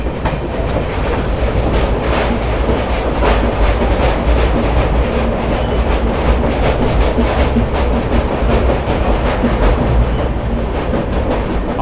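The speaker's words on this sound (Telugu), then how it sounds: "ఆఫ్ లింక్ లోకోమోటివ్ వచ్చింది" A train hauled by a WAP electric locomotive rolls past at close range, with a loud, steady rumble and a continuous rhythmic clickety-clack of wheels over rail joints. No voices are heard.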